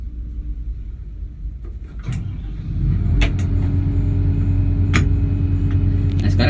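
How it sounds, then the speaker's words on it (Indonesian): An XCMG XR200E rotary drilling rig's engine cranks and catches, then settles into a loud, steady low rumble with a few sharp clanks over the idle. "sekarang engine sudah running"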